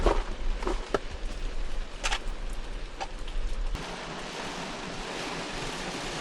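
Rain falls outside a truck parked by the Galveston rocks during a bank fishing trip, heard from inside the cab as a steady broadband hiss with a few sharp taps, easing slightly partway through.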